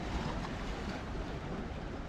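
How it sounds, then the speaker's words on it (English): Catamaran island cruise boat with glass bottoms passing offshore at Palmanova, Mallorca: a steady low rumbling wash of engine and water, blended with wind buffeting the microphone and gentle surf, continuous and moderately distant. "island cruise boat coming along, which is one of these catamarans"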